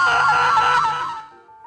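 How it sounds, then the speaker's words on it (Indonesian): Several people in a film scream out in surprise together, a loud, sustained shriek lasting about a second before it cuts off and fades. "Mereka pun berteriak kaget."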